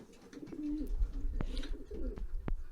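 A barless blue cock racing pigeon, a Dutch import of a rarer colour, coos in low rolling phrases as it moves about an allotment loft floor, with scattered taps and thuds nearby.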